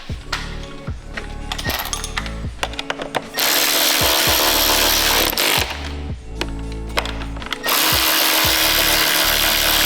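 A power driver with a T30 Torx bit runs screws into an Audi 4.0T intake system, giving bursts of whirring and ratcheting with clicks and clatter in between, close and loud.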